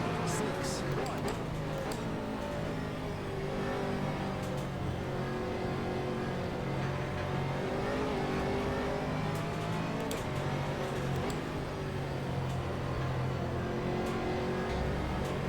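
GT3 race car engines in the sim racing game rFactor 2, with a Corvette, Porsche and AMG in the pack: continuous revving and shifting engine whine, rising and falling as cars run together, under steady talk.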